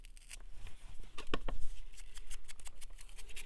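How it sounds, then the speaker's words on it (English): Paper is torn by hand to close an envelope, giving a few short crisp rips close up at a craft table. "Actually, I'm going to tear the top. And I'll tear the bottom."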